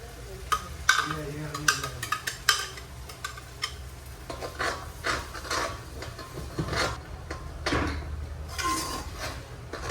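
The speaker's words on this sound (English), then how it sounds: "So I'm gonna allow this to fry for another 3 minutes" Masala with green seasoning frying and being stirred in a pan for a Hassa curry, giving a soft steady sizzle broken by scattered clicks and scrapes of a utensil against the pan.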